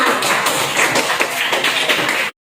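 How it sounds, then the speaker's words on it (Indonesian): A classroom of children claps hands together on cue, a steady dense patter of many small hands at close range that stops abruptly. "Tepuk tangan semua"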